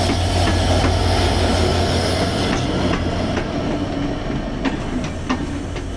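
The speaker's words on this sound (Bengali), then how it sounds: "এই যে এসে পড়লো 66-33 লোক নিয়ে দ্রুতযান এক্সপ্রেস" A Drutojan Express passenger train pulls into Radhikapur border station, a steady heavy rumble with rhythmic wheel clatter over rail joints and faint squeals, close and loud throughout.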